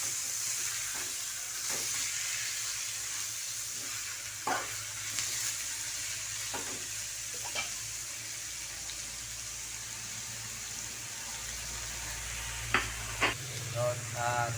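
Chicken sizzles and fries in a pan, sautéed with aromatics for Filipino tinola, a steady hiss of frying with occasional stirring clatter and a brief scrape near the end, no talk.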